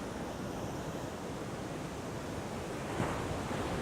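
Messy, mushy ocean surf at Sharpes Beach, a steady broadband wash of breaking waves with wind noise on the microphone, continuous and fairly loud with a slight surge near the end.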